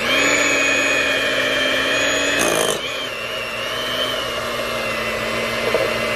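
A steady electric mixer whirring at constant speed through cheesecake batter with sugar, loud and continuous, with a brief harsh burst partway through before the motor settles back to a slightly lower, even drone.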